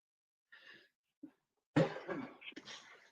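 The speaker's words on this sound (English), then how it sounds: "I'll cope with the coughing." A man coughs a few times close by, with short, separated, harsh bursts and then a longer rough fit of coughing, set against a quiet background.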